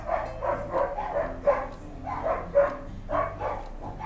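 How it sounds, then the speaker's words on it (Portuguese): Dogs at the house next door barking, several repeated woofs in loose clusters at moderate distance, fairly clear with nothing masking them. "Esses cachorros que vocês estão ouvindo aí são os cachorros da casa do vizinho"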